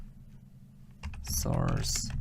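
Typing a command on a computer keyboard, a run of quick clicky keystrokes building in density near the microphone over quiet room tone.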